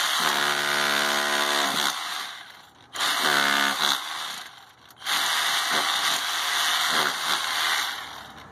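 A power drill punches holes into the mortar of a brick wall, sounding as three loud, grinding bursts with short pauses between them, close to the microphone and with no speech.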